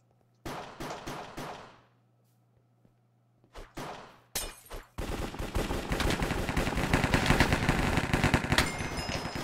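Pump-action shotgun fire in the Hypixel Cops and Crims game: a few sharp, loud blasts with gaps between them, then a dense, sustained stretch of rapid gunfire.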